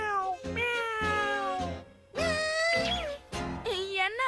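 Cartoon cat meowing repeatedly in loud, drawn-out, rising and wavering cries, several separate calls back to back with brief gaps, close and alone without talk.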